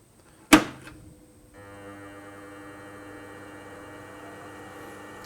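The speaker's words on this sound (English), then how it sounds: "So now I start polishing on the first step." A rotating polishing machine working a lab sample starts with a sharp knock, then settles into a steady even whir and hum that holds at a constant level to the end, with no voices.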